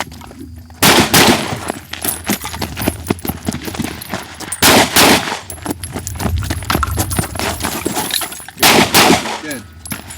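Rapid strings of gunshots from a quick-fire shooting drill on a range, loud sharp cracks in several tight volleys separated by brief pauses, with faint talk in between.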